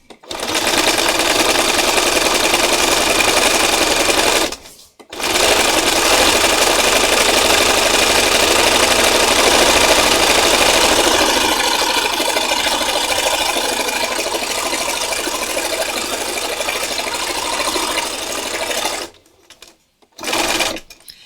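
A sewing machine runs fast and loud during free-motion stitching, a continuous mechanical whir that breaks off briefly twice and ends in short stop-start bursts.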